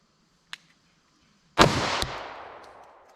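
A single sharp 9mm gunshot fired into clear ballistics gel, loud and close, echoing with a long decaying tail, preceded by a faint small click.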